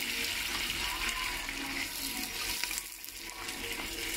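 Onions sizzle and simmer in hot oil in a cooking pot, a steady close hiss that fills the whole stretch, with a brief dip near the end.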